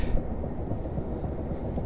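Steady low rumbling of a train rolling along in Train Simulator 2015 on a winter run near Faversham, a continuous dense mechanical drone of wheels and motor with no clear clicks, moderately loud throughout.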